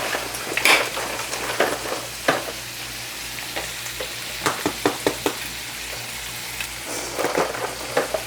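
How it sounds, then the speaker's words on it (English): Eggs frying and being stirred in a pan for a carnivore-diet meal: a steady sizzle with scattered scraping and clinking of utensil against pan, close and moderately loud, no talking. "Let's get these eggs going."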